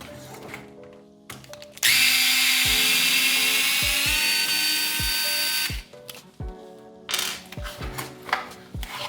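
A rotary power tool grinds plastic off a Tamiya XV-02 RC car chassis, loud high whine for about four seconds, framed by quieter start-up buzzes and short bursts afterward.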